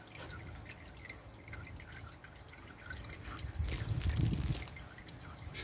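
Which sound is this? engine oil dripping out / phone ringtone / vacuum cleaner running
engine oil dripping out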